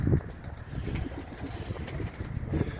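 A pet racing pigeon kept at home coos softly amid a busy, noisy background, the low murmuring calls close but partly masked by steady ambient sound.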